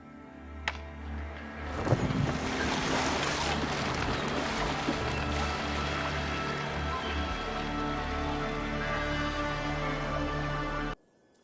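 Ship setting out to sea in Assassin's Creed Valhalla: a steady wash of water and wind sounds with a low rumbling hum, continuous and fairly loud throughout, cutting off abruptly at the end.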